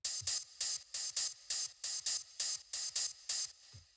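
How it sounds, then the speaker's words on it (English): Crisp synthesized hi-hat in industrial ambient techno, ticking in a steady, even pattern, about three hits per second, bright and close, with a couple of soft low thumps. "the last sound that we have here in this little percussion group is this hi-hat,"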